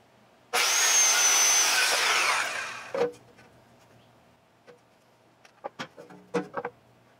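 A power tool saws through boat trailer guide parts during a Boston Whaler 13 restoration, a loud continuous cut lasting over two seconds that winds down, followed by scattered clanks and knocks from handling the pieces.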